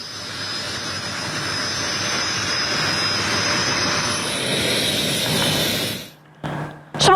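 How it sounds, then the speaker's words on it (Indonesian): Dassault Rafale fighter jet flying during air show preparations for Indonesia's 81st Independence Day, a loud, steady broadband jet roar held for about six seconds before it cuts off abruptly, followed by brief fainter bursts. "Termasuk penampilan perdana jet tempur terbaru Dassault Rafale"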